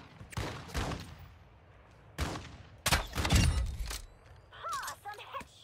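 A video game gunshot headshot: a few sharp, punchy shots with thuddy low impacts, spaced apart over a few seconds, followed by a brief higher-pitched game sound at the end.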